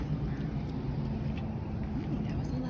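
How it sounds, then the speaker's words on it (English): A loud, steady low rumble of a heavy vehicle passing close by, continuous engine and road noise throughout. "That was a loud truck."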